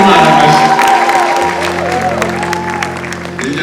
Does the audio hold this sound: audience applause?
yes